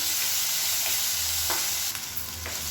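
Tomatoes sizzle steadily while being sautéed and stirred in a pan for a spicy Tamil kara kulambu with mochai beans, with a constant frying hiss and a few soft scraping stirs, close and alone.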